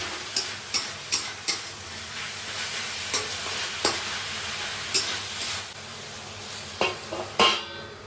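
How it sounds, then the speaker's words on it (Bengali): Leafy greens fry in oil with a continuous crackle and sizzle. Repeated sharp scrapes and knocks from a spatula stirring against the pan land at irregular intervals throughout. No voices are heard. "শাক ভাজাটা হয়েই গেছে, শাক তেল ছেড়ে দিয়েছে।"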